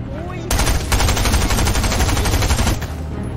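Automatic gunfire in the video game Fortnite, a loud, rapid burst of close shots lasting a couple of seconds before cutting off, with game noise around it.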